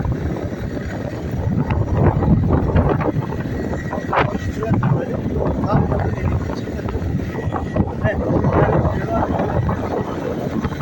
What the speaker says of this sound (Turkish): Bugün sizinle birlikte motorla geziyoruz.